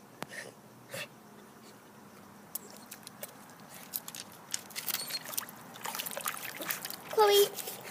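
Puppy digging at water outdoors, making irregular splashes and patters that grow busier and louder toward the end, with a short whine near the close.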